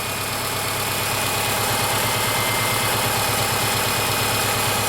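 A Subaru engine with a high-idle fault idles steadily at about 1,000 rpm, heard up close as a constant low, thrumming drone with a faint vibration. The tone stays the same throughout and no one speaks.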